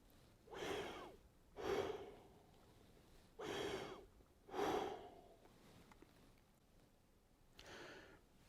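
Deep breaths drawn through a PVC pipe coupling held between the teeth, four airy hissing inhales and exhales in a slow rhythm, close and quiet, followed by a fainter fifth.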